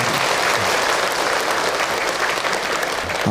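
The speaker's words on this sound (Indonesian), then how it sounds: "Tepuk tangan buat kita semua yang hadir." Dense, sustained clapping from the audience at an Islamic lecture, a large crowd applauding loudly and evenly throughout the short stretch.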